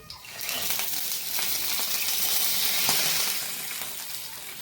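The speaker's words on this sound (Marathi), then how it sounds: "आपण जे दूध घेतले ना ते यामध्ये घालून घेऊ." Milk poured into a pan of roasted almonds gives a steady, loud hiss and sizzle that rises through the pour and eases slightly at the end, with no voices.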